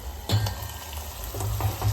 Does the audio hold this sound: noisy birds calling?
no